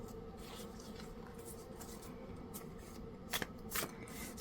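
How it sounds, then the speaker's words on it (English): Tarot cards are shuffled by hand in soft continuous riffling and rubbing, quiet and close, with a couple of sharper snaps near the end. "So as I'm shuffling out these cards"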